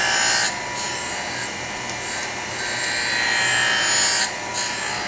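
A graphite block ground on a surface grinding machine in a tool shop, a steady high abrasive whine with swelling and fading passes, close and fairly loud.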